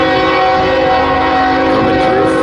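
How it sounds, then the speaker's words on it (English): An eastbound loaded Union Pacific coal train passes through Fremont, Nebraska, with a loud, sustained blast of the locomotive horn that holds steady over the rumble of the train for the whole moment. "This is an eastbound loaded coal drag on the Union Pacific side of things."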